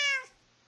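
A single Minecraft cat meow, close and clear, a short harmonic call that fades quickly into quiet.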